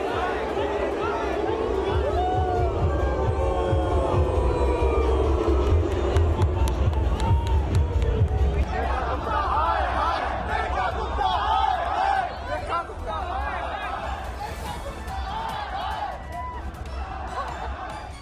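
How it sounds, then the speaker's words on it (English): A stadium crowd chants and boos Delhi CM Rekha Gupta during Lionel Messi's India tour event in Delhi, a dense roar of many voices rising and falling, with rhythmic shouted chanting and steady babble throughout. "you could hear the chants of poor AQI being shouted, being chanted at the stadium where Rekha Gupta was meeting Messi"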